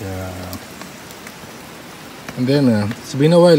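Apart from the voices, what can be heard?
raindrops falling on a tent tarp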